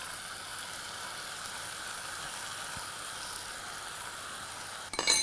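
Vegetables and soaked lentils sautéing in a pan, heard as a steady, even sizzle close by, with a brief stir and clink of a utensil near the end.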